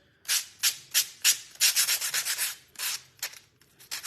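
Sandpaper rubbing back and forth across a wooden church sign, a steady run of close, loud scratchy strokes in quick rhythm with brief pauses, no voices.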